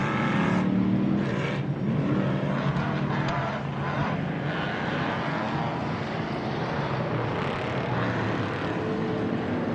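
Off-road race cars drive through a MetalCloak Stampede race, their engines a loud, continuous roar that swells and fades as vehicles pass nearby.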